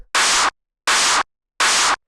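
A heavily distorted clap sample for hypertrance drums plays three times, each hit a loud, flat-topped wall of harsh static-like noise lasting about a third of a second, separated by silence.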